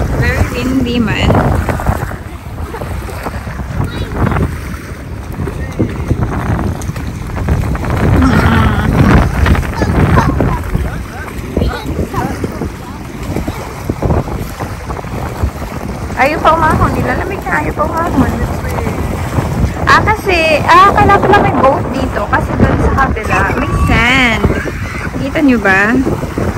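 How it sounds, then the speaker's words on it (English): Strong wind at a beach buffets the microphone in a loud, continuous roar with gusting surges, while people talk intermittently over it. "Very windy, man."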